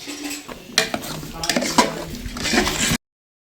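Metal utensils clank and scrape against pots amid a steady sizzle of spices tempering, with several sharp clinks over a busy kitchen clatter before it cuts off.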